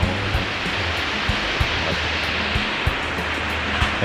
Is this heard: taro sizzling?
no